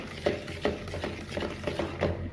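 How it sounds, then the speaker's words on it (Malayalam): Sugar being mixed and beaten by hand in a bowl for a White Forest cake, with a steady scraping stir and soft periodic taps of the utensil against the bowl, close and moderately quiet. "അപ്പോൾ ഇത് കുറേശ്ശായിട്ട് ചേർത്തിട്ട് നമുക്ക് ബീറ്റ് ചെയ്തെടുക്കാം."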